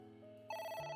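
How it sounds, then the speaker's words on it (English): A telephone rings in a video game, a short, quiet electronic ring whose tone steps up partway through, heard alone with no talk. "Uh-oh. It's ringing again."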